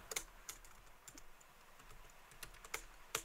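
Fingers tap out a prompt on a computer keyboard, light key clicks arriving in short irregular bursts, quiet and close with faint room hiss between strokes.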